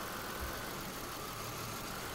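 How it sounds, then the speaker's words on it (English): A car engine idles steadily with one fuel injector disabled, running at about 800 to 850 rpm as a constant, even hum with no talk. "you hear the engine slow down"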